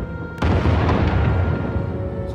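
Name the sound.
explosions from bombing in Star Wars The Old Republic video game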